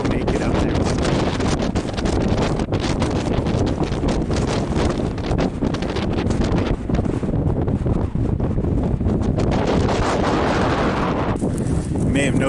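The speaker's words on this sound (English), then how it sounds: "the closer I got to that cliff, the windier it got" Strong wind buffets the microphone near a cliff edge on Ben Lomond during an October hike, a loud continuous roar and rumble throughout with no voices.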